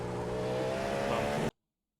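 A Cadillac GTP prototype race car in the iRacing simulator holds a steady, loud engine drone with harmonic whine for about a second and a half, then cuts off abruptly to silence.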